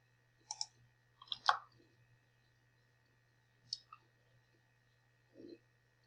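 A computer mouse clicks in short, sharp taps, a few single and double clicks spaced out over several seconds, close and quiet, with a faint background hum.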